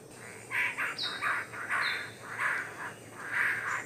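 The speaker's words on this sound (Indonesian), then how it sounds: "kakak tua raja dengan bulu hitam legam dan kulit pipi merah menyala sesekali melintas" A palm cockatoo, black-plumaged with bright red cheek skin, calls in a Papuan forest along a river, giving a series of harsh squawks and rising whistles that sound fairly faint and distant.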